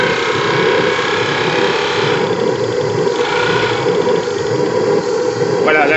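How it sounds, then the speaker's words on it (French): A steam engine on the Liva 2 speed boat with a double-flow boiler idles at 5 bar, producing a continuous chugging mechanical churn with hiss, steady throughout, while someone talks over it. "à 5 bars la machine accepte de tourner au ralenti"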